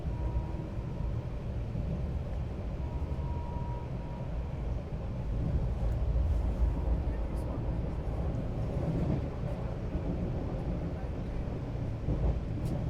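Secunderabad to Vasco da Gama bi-weekly express train running past Arts College railway station, a steady low rumble and rattle of the moving train heard from on board, continuous throughout with faint voices underneath.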